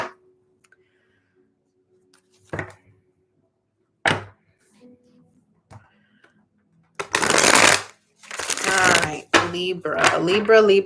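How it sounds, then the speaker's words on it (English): Tarot cards being shuffled in a few short riffling bursts, then a longer, louder run of shuffling with a voice talking over the end. "So let's do a quick shuffle."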